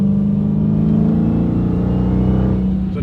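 A Dodge Hellcat engine roars loud and steady from inside the car, holding a deep sustained drone as it accelerates hard, with a slight rise toward the end.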